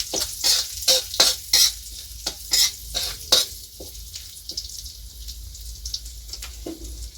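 Fresh stir-fry being tossed in a pan without pork, sharp scraping and sizzling bursts in a quick irregular rhythm, loud and close, easing into quieter clinks and scattered stirring toward the end.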